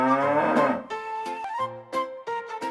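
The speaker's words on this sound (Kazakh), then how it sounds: "Бұл қандай жануар екен? Бұл сиыр. Мы деп кім дыбыс берді" A cartoon cow moos in a children's animal-guessing cartoon, one long low moo followed by a few shorter tonal calls, clear and close.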